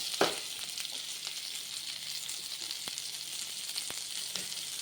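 Steady oil sizzle from a frying pan of egg curry tempering with curry leaves, a small tomato dropped in with a faint stir and a few soft clinks, close and continuous without talk.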